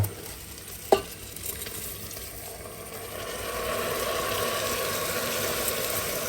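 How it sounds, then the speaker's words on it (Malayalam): Washed rice tipped into a pan of chicken curry over well-browned onions, then stirred: a sharp clatter near the start, followed by a steady close scraping and sizzling hiss with no talking. "ഇനി ഇതിലേക്ക് നമ്മൾ കഴുകി വെച്ച അരി ഇട്ട് കൊടുക്കാൻ വേണ്ടി പോകാം"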